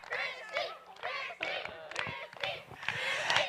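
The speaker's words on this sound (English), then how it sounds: "there's a unanimous chant going up for Christy to get into our dunk tank." Crowd at a charity telethon dunk tank event chanting in unison for someone to get into the tank, rhythmic bursts of many voices repeating close by and fairly loud.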